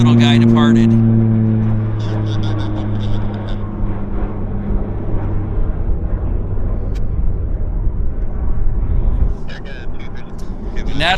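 A small aircraft departing a runway at Vancouver Airport, its steady engine drone loud at first with a rising tone, then a broad noisy roar that fades slowly, with a voice talking over part of it.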